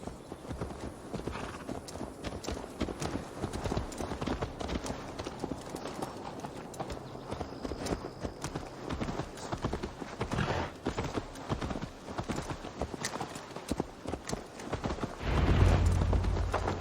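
Horse hooves clip-clopping at a walking pace in Assassin's Creed Valhalla, a steady even rhythm of hoofbeats, moderately close and fairly quiet, with a brief louder thump near the end.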